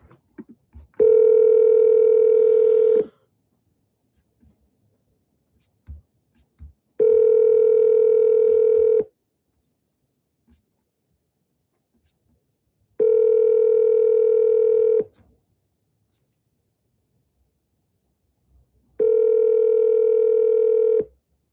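An outgoing phone call rings unanswered, with four long, even ringback tones spaced several seconds apart and silence between them.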